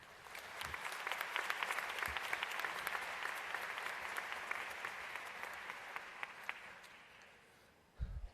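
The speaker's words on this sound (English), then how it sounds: "Please join me in another round of applause for Jay Johnson." Applause for Jay Johnson at a community college graduation ceremony, a long, even stretch of many hands clapping that gradually thins out toward the end.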